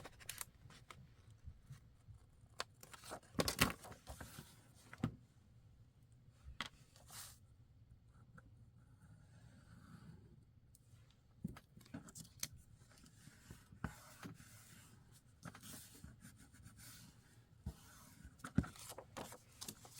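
Paper being trimmed with scissors while a handmade gusset junk-journal bag is made: a few quick close snips, with soft handling rustles scattered across a quiet tabletop.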